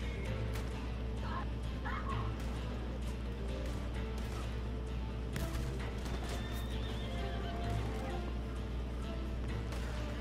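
A horse in the Red Dead Redemption 2 video game neighs and whinnies over a steady game soundscape, with hoof clip-clops and a constant low rumble running throughout.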